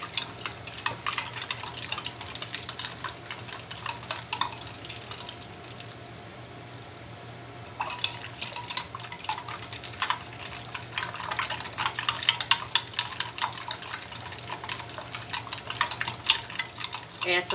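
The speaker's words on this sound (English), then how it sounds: "the quintessential 50s housewife stirring Jello" Jello being stirred in a bowl, a spoon scraping and clinking steadily in quick repeated strokes over a low constant hum, close and clear, with a short pause midway.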